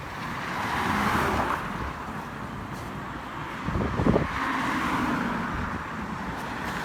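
Road traffic on Camelback in Phoenix, three lanes each way: a steady wash of passing cars at moderate distance, with one vehicle swelling louder as it passes near the middle, plus some wind noise on the microphone.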